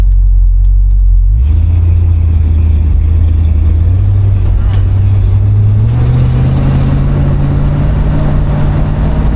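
A 1972 Buick GS sun coupe pulls hard on the road, its engine note climbing in steps through the gears, loud, close and continuous with a deep rumbling drone.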